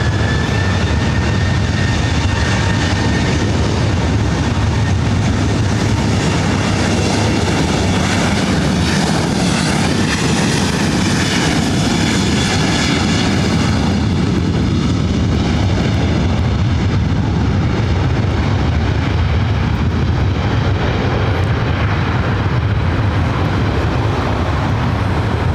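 A Boeing 757 jet airliner takes off from runway 24 right at LAX, its engines producing a loud, sustained broadband roar that holds steady across the whole stretch with no voices over it.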